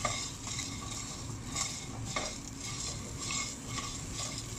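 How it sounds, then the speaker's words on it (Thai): Whole spices stir-fried and scraped in a hot pan for braised beef, with soft continuous sizzling and occasional sharp clinks of a utensil against metal. "เดี๋ยวก็จะทำการรวนไปอีกเรื่อย ๆ นะครับอีกสักพักหนึ่ง"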